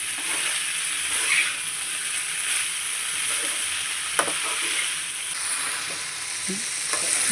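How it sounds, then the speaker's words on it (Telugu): Sorghum and peanuts are stirred as they fry in a pan, giving a steady close sizzle with soft scraping stir sounds and an occasional sharp clink, with no voices. "ఇక జొన్నలు పల్లీలు పోసినాక 5 నిమిషాలు ఉంచాలి. మంచిగా కలుపుకోవాలి."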